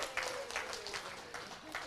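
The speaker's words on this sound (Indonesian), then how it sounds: "Mohon berikan tepuk tangan" Brief applause from an audience at an education outreach event in Riau, Indonesia, with clapping running under a voice speaking over it.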